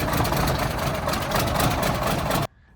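Peterbilt 359 truck engine with a worn Garrett AiResearch turbo making clunking noises, running steadily and loud at close range in cold weather, then cutting off abruptly near the end.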